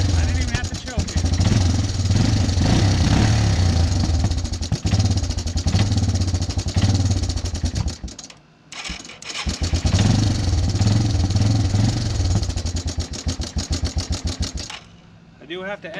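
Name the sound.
Yamaha Timberwolf quad engine running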